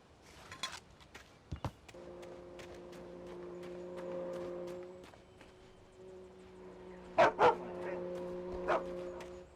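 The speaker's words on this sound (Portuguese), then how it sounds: "Som de cachorro." A dog barks in the game Alan Wake, with sharp, faint barks scattered early and a louder cluster later, above a sustained tonal drone, footsteps and game sounds.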